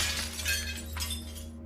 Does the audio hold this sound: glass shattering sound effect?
yes